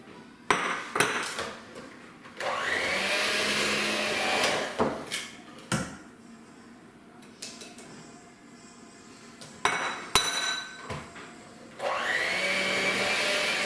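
An electric mixer running on low speed through ricotta cookie dough as flour is added, whirring in steady stretches that start and stop, with clanks of the bowl and utensils between runs.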